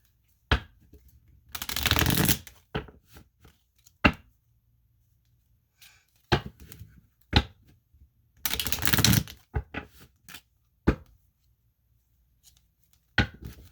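Kipper cards being shuffled in two distinct riffling bursts, separated by soft taps, clicks and card handling sounds, all close and with no talking.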